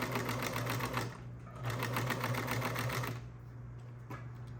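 A sewing machine runs a 1/4 inch seam on fabric for an island top, stitching in two steady bursts of rapid, even needle rhythm with a brief pause between, close and fairly loud with no talking.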